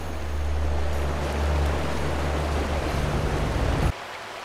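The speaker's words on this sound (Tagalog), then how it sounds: "sinalubong na kami ng malalakas na agos ng tubig." Strong river current rushes over large rocks on a six-hour river journey by bamboo raft, a dense, steady roar of water that cuts off abruptly near the end.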